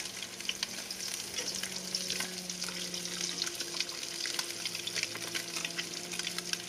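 Mullet pieces fry in hot oil after being flipped, a steady dense sizzle with crackling pops, close and loud throughout, no talking.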